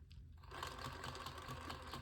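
A rapid mechanical rattling and clattering from an RC car's faulty transmission starts up and runs steadily, close and fairly faint, like small gears knocking inside a housing.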